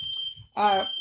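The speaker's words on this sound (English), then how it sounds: "We're having a fire alarm in my house." A home fire alarm goes off as a continuous shrill high tone through the whole moment, while a nearby voice speaks over it.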